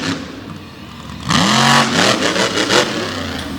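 Racing truck engine revving hard during a mud race at Canfield, Ohio, rising sharply midway into loud, strained bursts of rpm over a steady background rumble.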